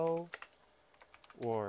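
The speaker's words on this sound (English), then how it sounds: "Let's type the code to print hello" Quick keystrokes of Python code on a computer keyboard make a short, light burst of clicking. A voice speaks just before and just after the typing.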